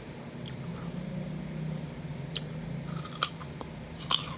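Crisp crunchy bites into fresh guava fruit, a few sharp snaps near the end after a quiet stretch, close up with faint background hum.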